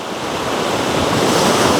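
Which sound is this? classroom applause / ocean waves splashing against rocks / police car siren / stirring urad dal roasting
ocean waves splashing against rocks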